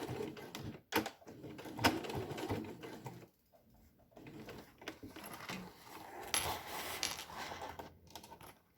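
A sewing machine runs short bursts of stitching on a school pencil case, locking a backstitch, its rapid mechanical whirr close and quiet, pausing briefly before resuming.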